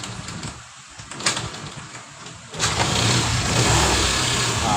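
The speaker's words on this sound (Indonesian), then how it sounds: "Sekarang tinggal kita tes untuk menghidupkan mesin." A carbureted Honda Vario scooter engine with newly wired full-wave charging cranks with a few short bursts, then catches and settles into a loud, steady running roar close by, with no talk.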